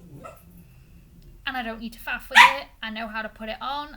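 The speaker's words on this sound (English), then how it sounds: "I apologise if you can hear the dog barking." A dog barks and yips near the microphone while a person talks over it, the barking rising into a sharp burst midway.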